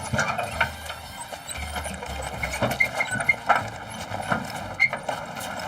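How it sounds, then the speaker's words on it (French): Camargue horses walking, their hooves clip-clopping in an uneven, moderately close rhythm alongside low rumbles and faint background noise. "Ces chevaux de Camargue, c'est une race qui est là depuis longtemps."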